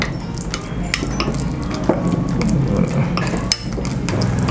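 Ground pork topping for bread is mixed in a bowl, with close, irregular scraping and clinking of a utensil against the bowl and soft wet stirring.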